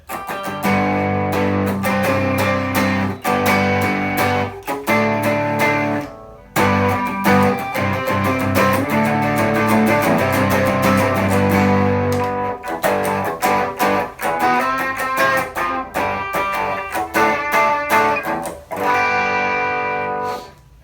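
A crunchy electric guitar through an overdrive pedal plays chords and riffs continuously and loudly, with brief gaps between phrases.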